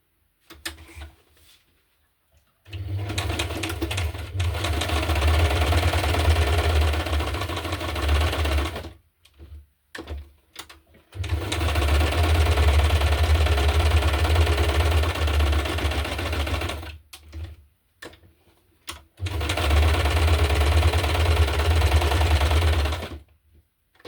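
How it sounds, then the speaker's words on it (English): A sewing machine stitching around the edges of a paper journaling card runs in three long, steady whirring bursts of several seconds each, separated by short pauses, loud and close with no talking. "The other card, I just want to sew around the edges and then it's finished."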